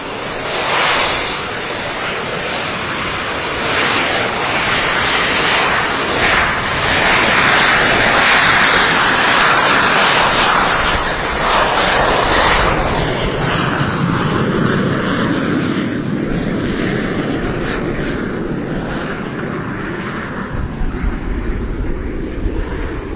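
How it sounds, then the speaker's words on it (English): A Lockheed T-33 Shooting Star jet takes off at the 2023 Tinker Air Force Base air show, a loud, broad engine roar that swells and then slowly fades as the aircraft moves away, with wind buffeting the microphone. "The aircraft taking off right now is the Lockheed T-33 Shooting Star."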